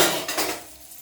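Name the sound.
lid placed on pan of frying prawns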